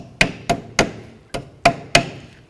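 Six sharp hammer taps, close and loud, ring out at uneven intervals with no talk while brackets are knocked into place on a 2007–12 Volvo S40 during a rear wheel bearing replacement.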